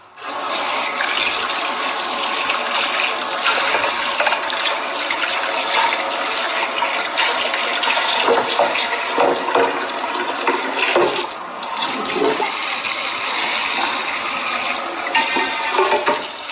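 Beans being rinsed under steady running water, a continuous loud gushing stream from a tap, close and unbroken for the whole stretch, with faint handling noises and no talk.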